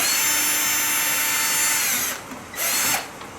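Power drill removing the screws from the housing of a Chauvet Q-Spot 260 LED fixture, a loud steady motor whine held close up, then a brief pause and a second short burst.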